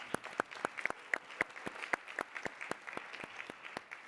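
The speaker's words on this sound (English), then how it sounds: "Let's give him and his team a round of applause" A conference audience at the 2021 HOPE Global Forums applauds, with steady clapping from a crowd of moderate size that is clear and fairly close, running the whole time with no talk over it.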